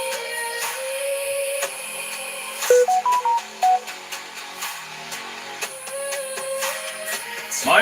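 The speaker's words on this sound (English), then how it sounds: "My apologies for the text message sounder." A phone's text message alert cuts through background music during a live stream, a short run of rising electronic tones, fairly loud and distinct, with no one speaking.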